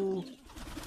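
A pigeon in a loft gives a short, close coo at the very start, and it fades quickly into a quiet background of low shuffling noise.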